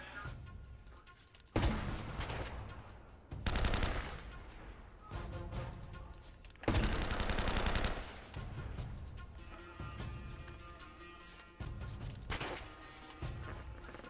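Several loud, broad gunshot blasts in the action game Uncharted: Drake's Fortune, irregularly spaced, with a few longer rumbling bursts over a steady busy background of game noise.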